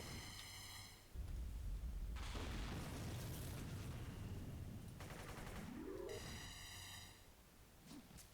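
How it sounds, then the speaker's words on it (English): Gunfire in the City of Heroes video game comes as a dense burst of booming shots and blasts, loud and sustained for several seconds between stretches of game music. "Let's just shoot him."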